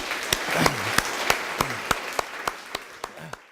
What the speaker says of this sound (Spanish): Un aplauso al Señor, por favor.